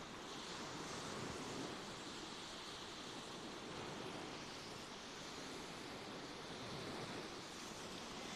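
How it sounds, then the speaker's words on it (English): Ocean surf rolls steadily onto the beach at Fehmarn, a constant broad wash of waves with some wind buffeting the microphone, with no voices. "I hope you can hear the waves."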